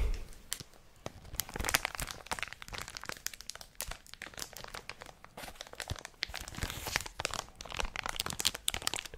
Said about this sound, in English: But it still makes good crinkles. Gotta get the crinkles in.